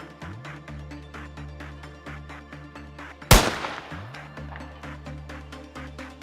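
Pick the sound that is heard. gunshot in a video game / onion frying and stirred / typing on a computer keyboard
gunshot in a video game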